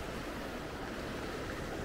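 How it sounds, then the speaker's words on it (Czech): Sea waves wash onto a beach on Crete, a steady dense rush of surf with no distinct breaks, fairly close and continuous with nothing else heard. "Krásný vlny."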